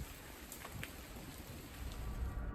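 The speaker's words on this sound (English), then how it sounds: "Still unsure if the sounds were just rain or something more threatening, Josh's feeling grew increasingly uneasy" Rain falls at a nighttime campsite, a soft continuous patter with a few brief sharper drop hits, swelling slightly toward the end.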